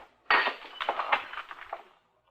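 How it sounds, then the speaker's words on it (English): A drinking glass knocked out of someone's hand smashes on impact, a sharp crash followed by a scatter of tinkling shards that fades out within about two seconds, with no talk. "Now, you shouldn't have knocked it out of my hand. Now it's broken."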